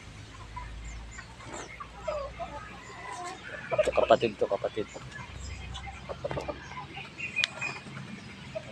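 Chickens cluck in a short rapid burst in the middle, with softer clucks scattered around it, while someone talks over the birds nearby.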